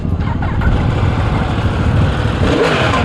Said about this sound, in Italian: Finalmente lo sento questa moto.